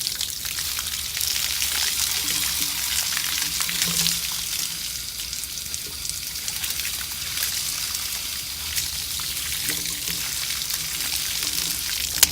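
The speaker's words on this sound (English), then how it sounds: "So just take the hose and just rinse it off a little bit." A garden hose runs steadily, rinsing the concrete pad of an RV dump station, a continuous close hiss of spraying and splashing water that holds even for about twelve seconds with no talking.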